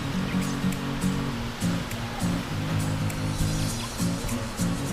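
Strong ocean waves surge and wash along a beach near the Kaybiang Tunnel in Nasugbu, Batangas, a steady broadband roar with a low rumble and no pauses.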